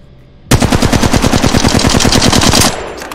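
The Flatline assault rifle fires in Apex Legends as one sustained burst of about twenty rapid, evenly spaced loud shots, then stops sharply and leaves a short fading tail.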